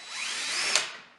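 A power drill bores pilot holes into the steel cross member of a 2016 Jeep Trailhawk during a winch install, one steady whining burst that swells and fades, close and loud with no talk.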